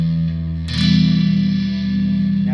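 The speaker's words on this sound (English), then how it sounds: "now you hear there's a little bit more extra funk on there because I have the overdrive on" Electric guitar set up with an overdrive effect, heard as a sustained, distorted chord with a thick, gritty tone. A sharp new strum partway through swells loudly and rings out alone.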